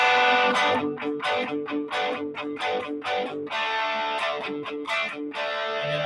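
Electric guitar with distortion and effects plays a chord progression in D Mixolydian, with loud, rhythmic strummed chords and short breaks between them, moving steadily throughout.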